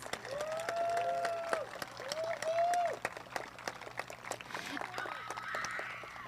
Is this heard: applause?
yes